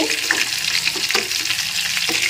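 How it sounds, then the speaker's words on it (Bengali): Cauliflower pieces sizzle steadily in hot oil, with a bright continuous crackle and a few soft stirring clicks, close and alone with no talking. "এখন প্রথমে ফুলকপিটাকে খুব ভালো করে ভেজে নিই"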